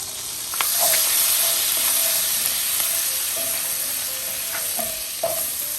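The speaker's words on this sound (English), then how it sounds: "using the same pan, we're gonna go ahead and melt some butter here" Butter and a splash of olive oil melting in a reused pan, giving a steady, fairly loud sizzle and hiss throughout, with a few soft scrapes and clicks of a utensil on the pan and no talking.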